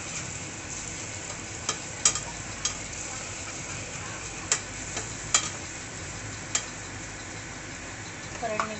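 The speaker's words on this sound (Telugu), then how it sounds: "ఒక 2 నిమిషాలు వేగనివ్వాలి" Goat head curry frying in a pan for a Bonalu festival meal, a soft continuous sizzle with a scattering of faint stirring clicks from the utensil, steady and close, no voices.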